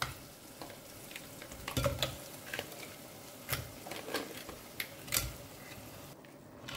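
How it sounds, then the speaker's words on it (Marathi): Crab pieces frying in a pan with softened tomato for crab sukka, stirred with scraping spoon strokes over a steady low sizzle, with several sharper clatters spaced through the stretch. "सो आतां आमी घाल्या क्रॅब."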